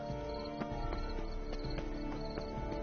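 Steady hoofbeats of a horse in The Witcher 3, evenly spaced clip-clop thuds repeating over a sustained musical drone, moderately loud and close.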